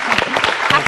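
Studio audience applause on a television health talk show, a short burst of clapping from the crowd with faint speech mixed in, under a second long.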